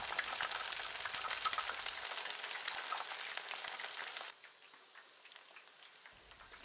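Mushrooms frying in oil over a medium flame give a dense, steady crackling sizzle close by, which drops to a softer, quieter hiss partway through.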